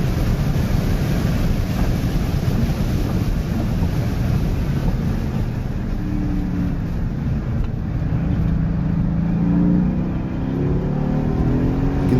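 A Porsche 911 GT3 on cold, worn tires laps Arizona Motorsports Park, with a loud, steady engine drone buried in heavy wind buffeting from an onboard microphone and a rising pitch as it accelerates.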